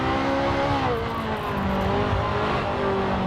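A BMW GT2 race car on a flying lap in a racing game, its engine droning loud and close at a steady high pitch that sweeps slowly down through a gear range.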